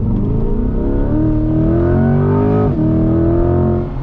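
A C8 Corvette accelerating hard from inside the car, loud engine note climbing steadily through the revs, dipping briefly at a gear change, then rising again for about four seconds.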